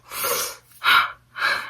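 Allergy sneezes from a person: three sharp, breathy bursts in quick succession, close and fairly loud, with no talking.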